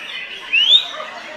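An oriental magpie-robin sings alone at a songbird contest, imitating other birds such as a canary and a cililin, with a brief bright rising whistle over a soft, continuous chirping background.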